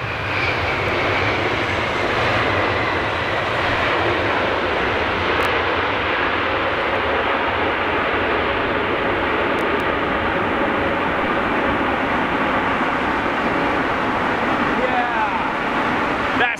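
A Boeing 787 Dreamliner jet at Heathrow gives a loud, continuous engine roar that holds steady for the whole stretch, a broad dense rumble and whine with no break.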